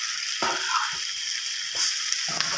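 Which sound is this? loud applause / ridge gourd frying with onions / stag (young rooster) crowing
ridge gourd frying with onions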